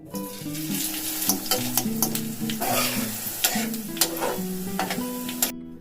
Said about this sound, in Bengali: কড়াইতে তেল গরম হয়ে গেছে এবার আমি ভেজে নেবো